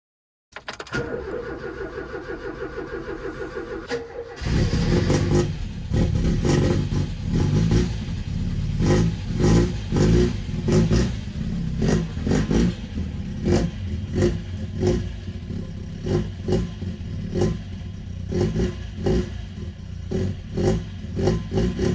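A Mk2 Ford Fiesta engine starts with a brief crank and catches, then revs loud and close as the car is driven out, the throttle rising and falling rhythmically with no voices.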